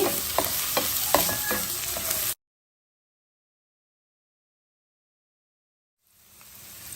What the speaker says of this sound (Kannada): ಇದು ಕೊತ್ತಂಬರಿ ಪೌಡರ್ ತಗೊಂಡಿದ್ದೀನಿ ಇದನ್ನು ಕೂಡ ಇದಕ್ಕೆ ಹಾಕೋಣ ಸ್ವಲ್ಪ ಫ್ರೈ ಮಾಡಿ